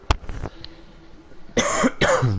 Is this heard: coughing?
yes